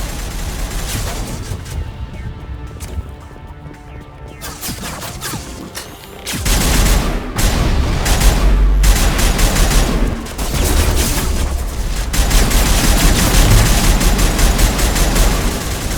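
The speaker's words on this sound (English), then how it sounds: "There must be a way to shut that gun down." Heavy gunfire from the game Mass Effect, played on Insane difficulty, erupts in loud sustained bursts of rapid shots and booms that rise to a dense, continuous barrage in the second half.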